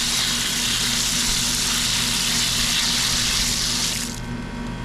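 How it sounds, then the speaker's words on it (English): Water runs steadily from household plumbing during a leak test in a house under renovation, with a loud, continuous rushing hiss that eases slightly near the end and no talking. "Alright, the water's definitely on."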